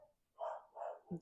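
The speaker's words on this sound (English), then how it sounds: "If you can hear my dog barking," A faint dog gives two or three muffled barks in quick succession, sounding distant, during a thunderstorm.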